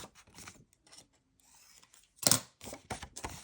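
Scissors snipping a paper flap on a journal belly band, a few quiet, close cuts separated by short pauses, with one sharper snip in the middle.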